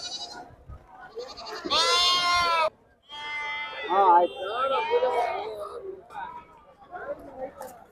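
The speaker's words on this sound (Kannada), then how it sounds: "ಒಳ್ಳೊಳ್ಳೆ ಮೇಕೆ ಮರಿ" Young goat kids bleat loudly and repeatedly at a busy livestock market in Kadur, with long wavering cries rising over voices talking nearby.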